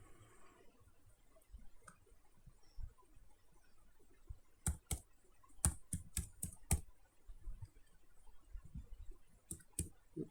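Username being typed on a computer keyboard during a Django admin login, heard as sparse, light key clicks that cluster into quick bursts midway and near the end, close and quiet with no talking.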